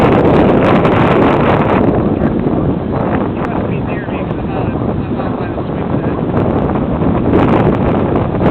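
Steady wind buffets the microphone of an FPV drone as it hovers and flies into a headwind outdoors, a loud continuous roaring rush with gusty swells that never lets up.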